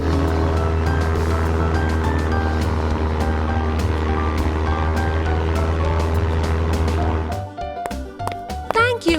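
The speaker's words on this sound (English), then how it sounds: "I will fly this airplane." Cartoon airplane in a children's adventure, a steady droning engine hum that holds loud and even, then breaks up toward the end as voices and other sounds take over.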